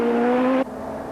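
A 2004 Volkswagen rally car running flat out on gravel, its engine holding a high, steady note close by before cutting off abruptly after about half a second.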